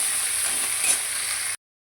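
Fish heads frying in hot oil for a potato curry, a steady bright sizzle with soft stirring, close and continuous, then breaking off into a short silence before resuming.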